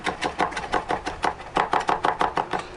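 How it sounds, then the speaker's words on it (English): A knife chops food quickly on a board with a rocking motion, giving a fast, even run of close, crisp taps with no talking. "It's probably one of the easiest chopping methods."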